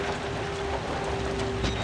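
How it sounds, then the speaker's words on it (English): Rain in the horror game Outlast hisses as a dense, steady wash of noise with a faint constant tone running through it, and nothing else stands out. "That's not a very good noise I'm hearing. That's the rain."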